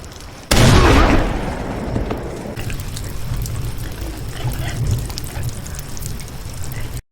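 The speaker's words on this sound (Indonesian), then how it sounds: "Dengan menembak ke arah kolong rumahnya ia berhasil membuat Dugan ketakutan" A shotgun blast fired toward the underside of a house in a Western film: a sudden loud boom that rings out and decays over a couple of seconds, followed by a steady low rumbling background.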